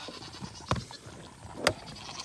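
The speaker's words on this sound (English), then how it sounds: "He's noisy and has a crazy moo." Jack, a noisy cow on a farm, gives two short, rough calls about a second apart over quiet outdoor background, the second a bit louder and more strained than the first.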